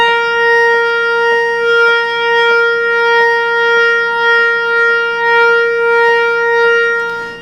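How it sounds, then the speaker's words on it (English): A restored Memorymoog synthesizer sounds a loud, sustained chord from all three oscillators on all six voices together, a rich droning tone with a faint regular pulsing beat throughout. "So there's all 3 oscillators of all 6 voices working."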